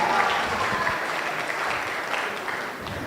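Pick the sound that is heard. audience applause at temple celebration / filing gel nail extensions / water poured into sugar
audience applause at temple celebration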